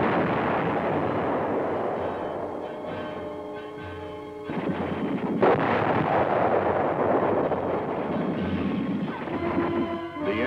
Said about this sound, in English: the tanks meet heavy fire from enemy tanks and anti-tank guns